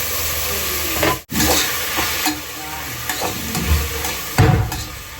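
Mint, coriander, green chillies and tomato fry and sizzle in a pan, with steady hiss broken by stirring scrapes and a louder splash of sizzle near the end, close and alone.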